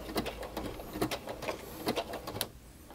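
Sewing machine stitching a raw-edge appliqué butterfly quilt block, producing short bursts of close mechanical rattling and clicks in uneven spurts as the fabric is pivoted, then stopping near the end.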